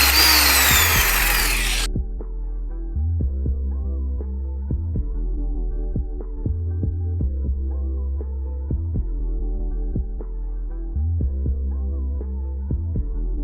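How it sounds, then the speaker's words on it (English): An impact wrench with a 12mm socket works on a part of a 2008 Acura TL Type-S. It gives a loud, harsh burst of about two seconds at the start, then cuts off, and low, steady rhythmic thumping follows. "the tools you're gonna need for this job is a 12mm socket and a nice big strong impact wrench"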